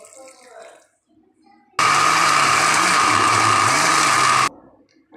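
A mixer grinder whirs loudly for about three seconds as it grinds Arabic tomato chutney for mandi, starting and stopping abruptly, with faint kitchen sounds in the quiet gaps before and after.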